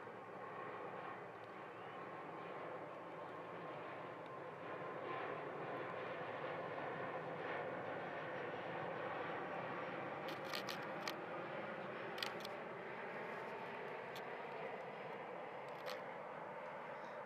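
An Aer Lingus airliner passing at Manchester Airport, a faint distant engine drone with a slowly shifting whine, plus a few sharp clicks near the end.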